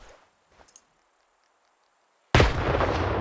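Grenade explosion in the video game STALKER 2, a sudden loud broadband blast after near silence with a few faint clicks beforehand, followed by a sustained rumbling roar as it fades.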